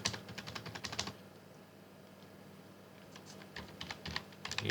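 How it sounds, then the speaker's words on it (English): Rapid bursts of typing on a computer keyboard while building a website footer, with dense clusters of keystrokes at the start and end separated by a quiet pause, close and clear with no talking. "Okay, I can just type. Let me just type the"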